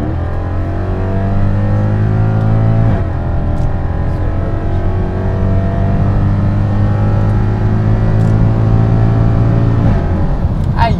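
A naturally aspirated V8 in a Mercedes C63 AMG W204 estate is pushed to full throttle in Sport mode with the exhaust valve open. It roars loudly up through the revs, with crisp breaks at two upshifts before it climbs again.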